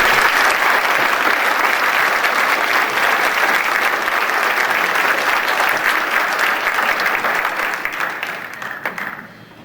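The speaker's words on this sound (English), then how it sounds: "Please applaud." An audience at a spring concert applauds student musicians with loud, dense, sustained clapping that fills the hall, then thins and fades out in the final second.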